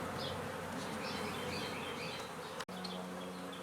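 A dense, constant drone of honey bees buzzing close by, steady throughout with a brief dropout near the end.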